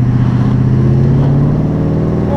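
Jensen Interceptor FF engine, a loud deep steady rumble held close and continuous for a couple of seconds, with no talk over it.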